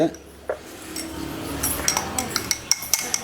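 A glass of liquid being broken into and stirred while preparing a home remedy, with sharp clinks of utensil against glass and scraping knocks, growing more frequent toward the end, close and moderately loud.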